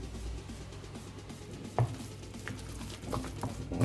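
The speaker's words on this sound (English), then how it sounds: "I want to give this a proper stir." Food sizzles in a hot pan during shepherd's pie preparation, a close steady fry with brief scraping stirs and soft clinks.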